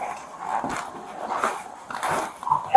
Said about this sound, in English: It's a golden retriever.